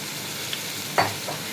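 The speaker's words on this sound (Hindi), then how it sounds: "आलू डालकर इसे भी 2 मिनट तक फ्राई करेंगे।" Cut potatoes added to frying cauliflower in desi ghee, a soft steady sizzle broken by a brief spatula scrape near the middle.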